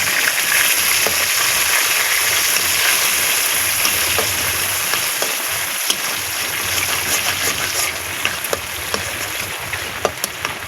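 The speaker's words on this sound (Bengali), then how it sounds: "এই ডিম গাছটা ভালো করে ভেজে নেবো।" Egg fries in a pan with a steady hiss of sizzling oil, broken by scattered sharp clicks and scrapes from stirring, close and continuous.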